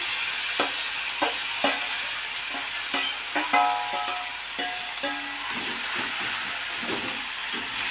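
Finely chopped hadga flowers fry in a pan with green chilli and red chilli powder, giving a constant close sizzle with intermittent spatula taps and scrapes against the pan; no talking.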